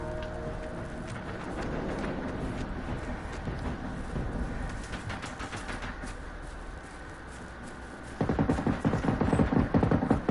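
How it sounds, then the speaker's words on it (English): Sustained rapid gunfire from a tank battle video game, a continuous dense rattle of shots that grows louder and heavier near the end, with no talking. "They're all firing in one direction."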